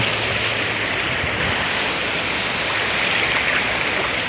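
Morning sea waves at Hua Hin beach on the Gulf of Thailand, a continuous broad wash of surf rolling steadily and loudly with no voices over it.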